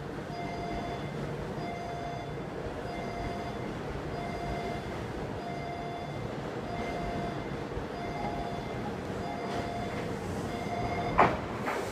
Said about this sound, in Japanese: まもなく2番乗り場に参ります電車はこの駅止まりです。